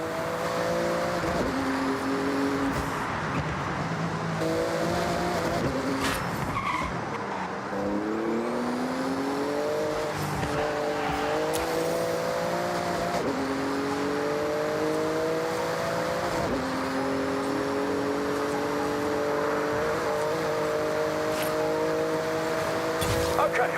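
A Porsche in Forza Horizon 6 races flat out through a speed zone, its engine droning steadily with repeated gear shifts and pitch climbs across the run, loud and close throughout.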